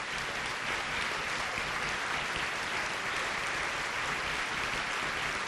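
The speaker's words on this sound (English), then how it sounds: "let's give them all a round of applause" Sustained applause from an audience at a domestic violence benefit event, honoring police officers, court staff, judges and victims' advocates; steady, dense clapping throughout with no gaps.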